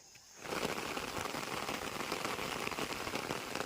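Rain starts abruptly after a brief quiet moment and then falls steadily through a Konkan forest, a dense, even patter that is fairly soft and fills the scene alone.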